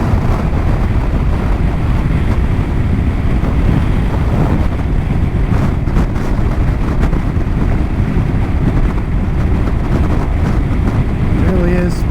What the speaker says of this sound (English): is a little windy up here